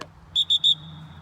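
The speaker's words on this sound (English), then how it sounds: "This dog now understands the tone of this whistle." A dog training whistle blown in three short, sharp high-pitched blasts in quick succession, close and loud, then quiet.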